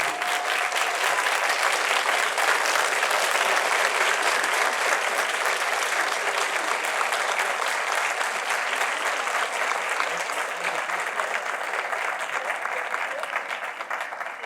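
An audience at a doctoral hooding ceremony gives sustained, dense applause that fills the whole stretch and fades slightly toward the end, with no clear talk over it.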